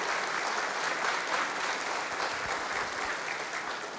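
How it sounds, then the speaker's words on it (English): A room at a city council meeting breaks into applause for the retiring bulldog mascot of Fresno State University. The clapping is steady and dense, from many hands, and goes on for several seconds with no talk over it. "So give him a round of applause."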